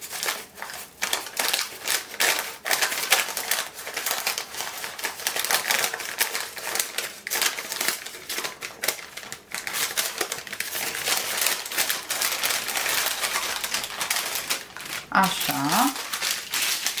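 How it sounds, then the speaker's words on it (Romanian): Baking paper being peeled and crinkled off a sheet of coconut cake, a steady run of close, dry crackling and rustling throughout, with a brief voice near the end. "De partea care merge mai bine, încerci să o desfaci de hârtie."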